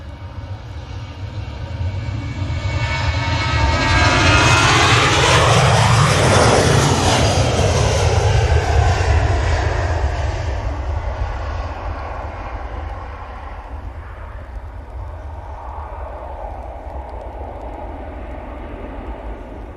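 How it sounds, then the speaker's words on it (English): KLM Embraer E2 jet landing at Manchester Airport, a loud broadband roar that swells with a sweeping Doppler whine as it passes close by, then slowly recedes into a lingering rumble. "Got KLM E2 about to land as well."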